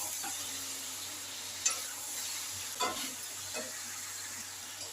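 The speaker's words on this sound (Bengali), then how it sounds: "পটল আলু ভালো করে আমি লাল লাল করে ভেজে নেব।" Pointed gourd and potato frying in a pan with turmeric, giving a soft steady sizzle with a few brief clinks of a spatula stirring the pieces, close but fairly quiet.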